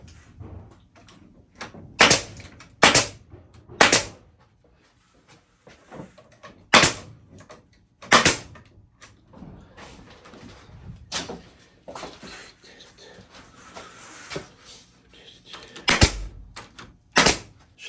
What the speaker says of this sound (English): We'll just staple it down.